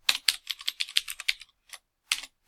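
Fast typing on a computer keyboard, a quick run of crisp, close key clicks followed by a few isolated taps after a short pause, with no talking.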